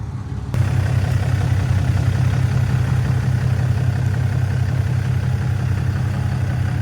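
A loader's diesel engine idles nearby, kicking in after a brief quiet start and then holding a steady low rumble and throb with no voices.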